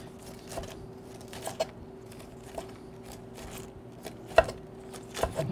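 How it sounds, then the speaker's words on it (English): A paring knife trims a fresh artichoke, giving faint, irregular snips and taps against the board, close and quiet over a low steady hum. "I want to use my paring knife to trim it down."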